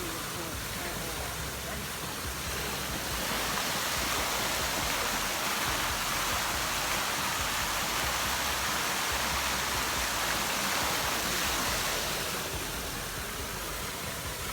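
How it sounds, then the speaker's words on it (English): A steady, broadband rush of falling water roars without pause throughout, loud and even, like a waterfall heard from close by. "The waterfall is pretty pretty."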